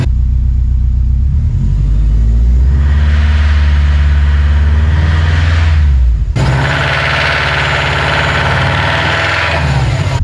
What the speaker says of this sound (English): I'm gonna let it warm up just for a second and then rev it up a little bit and see how loud it is.